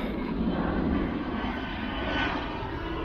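A loud airplane engine roars steadily overhead above docks and waterside pilings, a broad continuous drone that swells slightly and fills the whole moment.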